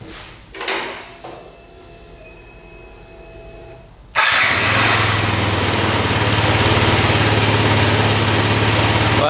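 A three-wheeler with a newly replaced fuel pump cranks briefly with some clunks, then fires up into a loud, steady, buzzing idle that carries on alone.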